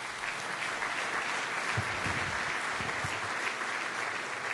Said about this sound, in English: So I'd give everybody a round of applause here.